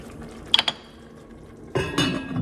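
A metal lid is set back onto a pot of Jamaican curry goat, giving a few sharp close clinks followed by a louder rattling clatter as it settles.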